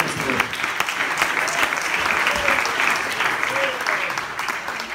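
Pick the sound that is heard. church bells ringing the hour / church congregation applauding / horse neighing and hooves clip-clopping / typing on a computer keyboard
church congregation applauding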